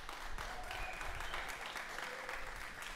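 An audience applauds guest artists on a music show, a steady wash of clapping that holds for the whole stretch at moderate distance.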